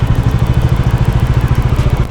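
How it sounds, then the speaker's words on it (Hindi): A Bajaj Dominar 400 idles in heavy traffic with its radiator cooling fan running, giving a steady, close, throbbing low engine pulse with a faint whir above it and no talk. "ये देखो इस टाइम पे इसका एग्जॉस्ट फैन ऑन है।"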